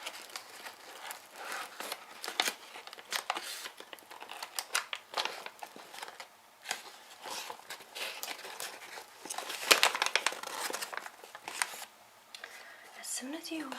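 A paper tea bag package, part of an eco-friendly tea set with eucalyptus and peppermint, is opened close up with soft crinkling and rustling, under gentle whispered talk.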